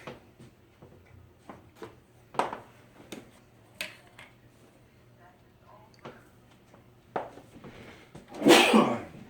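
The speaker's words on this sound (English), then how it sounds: "I'm sneezing like crazy." A person sneezes once, loudly and close by, near the end, set off by Italian seasoning while making an almond flour pizza crust in a kitchen, after a stretch of soft clicks and small handling noises.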